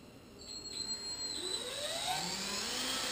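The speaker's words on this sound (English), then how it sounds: "this has a drill bit in the middle with a cutting hole cut saw on the outside" A power drill fitted with a hole saw and centre pilot bit, spun up while installing a RAM mount base plate, whining with a rising and shifting pitch as it speeds up and cuts, steady and fairly close with no talk.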